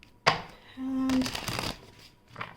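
A deck of tarot cards is shuffled by hand in one short, close, papery flurry of riffling after a soft tap, then a faint rustle.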